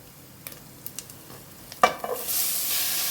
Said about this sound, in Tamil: ஸோ இதை நம்ம வந்து நல்லா ஃப்ரை பண்ணிடலாம்.